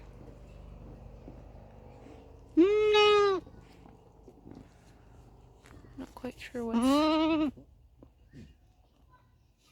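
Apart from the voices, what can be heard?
sick goat bleating on a farm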